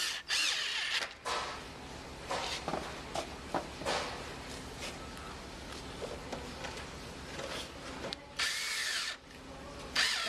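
A power drill drives screws through a window frame header into the jamb, sounding in several close, loud bursts with short pauses between them, plus some handling clatter and footsteps.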